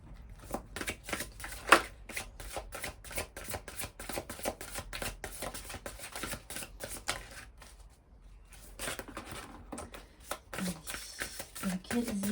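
Oracle cards are shuffled with rapid, papery riffling and soft slaps, fairly close and quiet, while someone talks throughout.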